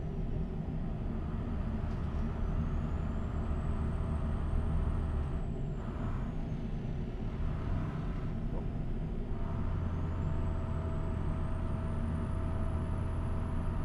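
A truck's engine brake in Euro Truck Simulator rumbles in a low, steady drone with rising and falling whine, quiet and continuous.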